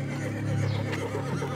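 A horse whinnies over a steady low hum, a single drawn-out neigh at moderate distance with a faint rising squeal near the end.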